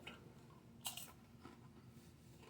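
Guinness-flavored kettle chips are chewed close up, with a sharp crunch partway through followed by softer irregular chewing sounds, quiet and with no talk.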